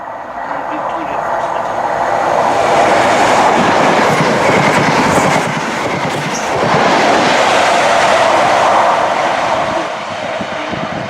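Passenger train on the Fife Circle Line just leaving South Gyle station, a loud continuous rumble of wheels on rails with rhythmic clickety-clack swelling and easing.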